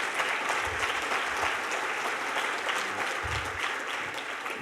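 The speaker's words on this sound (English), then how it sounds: "let's everyone give each other another round of applause" An audience at a Missouri opioid summit in St. Joseph applauds: steady, dense clapping that carries through the whole stretch at an even level and fills the room.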